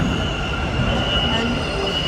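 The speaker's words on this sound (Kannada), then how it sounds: "ಫಸ್ಟ್ ಟೈಮ್ ನಾನು ನಿತ್ಯೇಶ್ ಅವ್ರ ಇಬ್ರು ಕೂಡ ಎಲ್ಲೋ ಲೈನ್ ಮೆಟ್ರೋ ಹೋಗ್ತಾ ಇದ್ದೀವಿ." A steady, dense rumble of a Yellow Line metro train running, with a constant hiss and a faint high tone, continuous and close, heard from inside the carriage.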